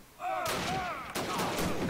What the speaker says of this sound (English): I'm waiting for all this gunfire to subdue